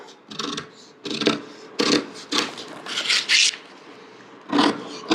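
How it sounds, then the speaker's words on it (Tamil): Scissors or a cutter work through fabric for a blouse sleeve pattern, close-up, with about seven short rasping cutting strokes in irregular bursts separated by brief pauses. "இப்போ நான் கட் பண்ணி காட்டிடவா"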